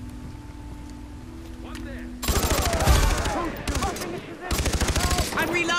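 Dense automatic gunfire in Far Cry 3 co-op play, rapid loud bursts starting abruptly and continuing in rattling volleys, with a player briefly exclaiming over the shooting and a steady engine-like drone beneath before it begins.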